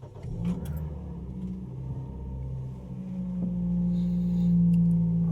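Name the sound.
automatic car engine starting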